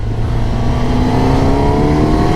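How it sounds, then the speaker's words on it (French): A Suzuki GSX-S1000GX four-cylinder motorcycle accelerates close by, its engine note loud and climbing steadily in pitch through the whole stretch. "Première accélération. Le 4 cylindres est plutôt rempli"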